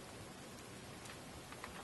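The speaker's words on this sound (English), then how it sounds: "It's raining." Rain falling in The Forest survival game, a steady faint hiss of rainfall with no talk.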